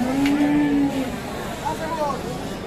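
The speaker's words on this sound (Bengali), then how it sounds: "এই গরু আমরা দেখছি এবং শুনছি।" Cattle, including large crossbred bulls, at a busy livestock market in Bangladesh, one giving a long low moo close by, then fainter lowing calls against crowd murmur, with people talking.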